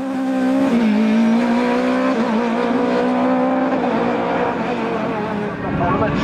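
A Norma M20 FC 2-litre race car at the Limonest hill climb holds a loud, sustained engine drone with a slightly wavering pitch that stays close and strong throughout.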